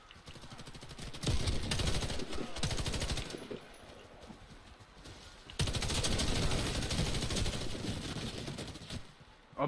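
Pump shotgun fire in the Warface video game, heavy blasts in dense bursts with short pauses between, loud and close amid game noise.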